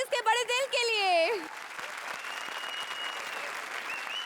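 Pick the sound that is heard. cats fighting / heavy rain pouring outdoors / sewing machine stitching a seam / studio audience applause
studio audience applause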